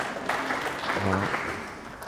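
Soft audience applause at a 2011 UK Championship snooker quarter final patters quietly beneath a commentator's voice for about two seconds.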